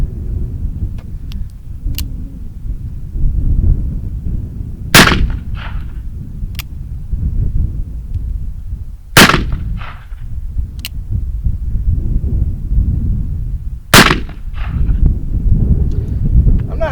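Three loud, sharp reports from an Uberti Remington 1858 black powder revolver firing round balls, spaced several seconds apart, each with a short echoing tail over outdoor background rumble.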